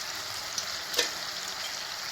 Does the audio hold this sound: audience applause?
no